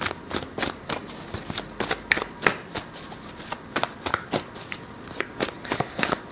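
Rider-Waite tarot cards are shuffled close by in a steady run of crisp riffling flutters and soft slaps, repeating roughly every half second with no speech.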